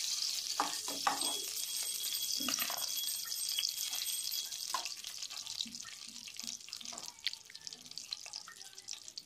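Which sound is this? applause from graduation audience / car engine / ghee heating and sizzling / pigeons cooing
ghee heating and sizzling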